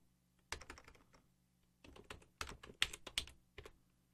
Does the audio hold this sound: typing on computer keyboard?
yes